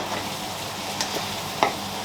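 Bean chilli with a pinch of salt stirred in a pan, a steady soft sizzle broken by a few light scrapes and one sharper clack of the spoon near the end.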